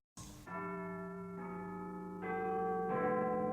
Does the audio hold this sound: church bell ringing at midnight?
yes